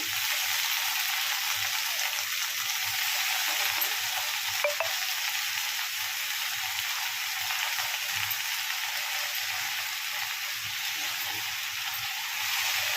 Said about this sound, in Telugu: ఇప్పుడు దీంట్లో కడిగి పక్కన పెట్టుకున్న గోంగూర వేసుకుందాము.